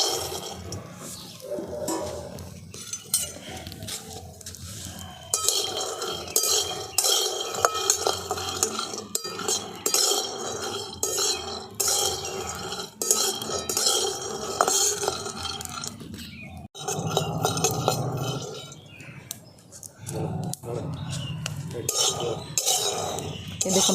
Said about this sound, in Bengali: বাদামগুলো থেকে ফটফট ফটফট ফুটতে শুরু করেছে